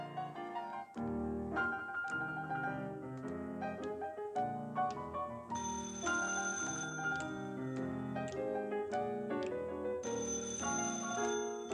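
A telephone rings on cue during a stage show rehearsal, with repeated bright ringing bursts over a full orchestral music backing that plays throughout, loud and continuous.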